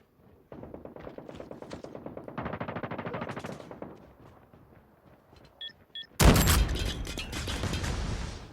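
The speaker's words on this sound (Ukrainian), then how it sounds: "Звідкіля стріляють." Rapid automatic gunfire in the COD Mobile shooter rattles in steady bursts of evenly spaced shots, then goes quiet before a loud, sharp blast gives way to a noisy, roaring wash of sound.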